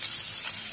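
Curry leaves, mustard seeds and dal crackle and sizzle in hot oil in a steady, bright frying hiss, close up for a brief moment.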